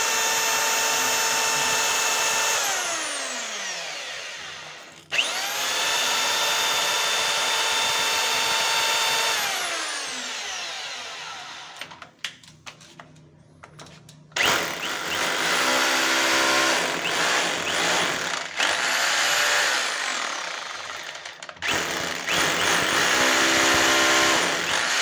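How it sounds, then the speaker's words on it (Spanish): A hammer drill bores into smooth enamelled bathroom tile in long, loud, whining bursts with rising and falling pitch, broken by short pauses and sputters as the trigger is released and pressed again. "Este taladro es un taladro percutor, rotomartillo"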